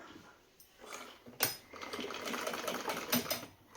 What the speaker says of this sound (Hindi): दूसरी तरफ भी सेम हम सिलाई कर रहे हैं, बिल्कुल पक्की तरह से